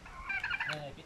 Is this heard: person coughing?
no